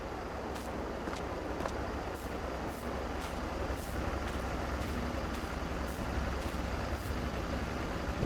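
A truck engine idles steadily in Farming Simulator 22, a constant low rumbling drone with faint periodic clicks on top, moderately quiet and with no talking.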